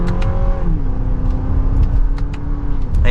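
A 2023 Lexus RX 350 Premium in sport mode and second gear builds speed steadily on the road, its engine drone rising smoothly in pitch and holding over continuous road and wind noise, with no voices.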